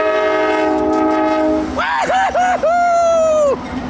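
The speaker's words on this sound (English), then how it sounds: "We got the CSX b816 eastbound loader coal train, empty coal train." An eastbound CSX empty coal train with a CM44AC locomotive passes while its horn sounds loud and close: a long steady blast, then several short bursts, then another sustained blast over a low rail rumble.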